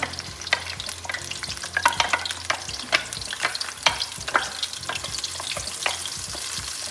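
Aloe vera and neem paste sizzles and fries in hot oil for homemade hair oil, with steady crackling and repeated scraping stirs of a spoon in the pan, close and continuous.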